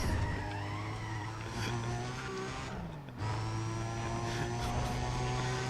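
Loud car engine hum with a sustained tire skid as the car brakes hard in a Need for Speed video game, a brief dip midway before the engine drone resumes.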